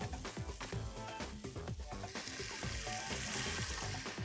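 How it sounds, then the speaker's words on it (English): Onions sauteing in a pot for pea pasta, a steady loud sizzle with crackling bursts and stirring scrapes, no talk. "Onions are nicely sauteed."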